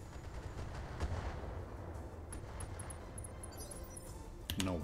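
Mech weapons firing in Battletech, a scatter of distant impacts and crackling shots over a steady low rumble, ending in a sharper burst near the close, with no talk.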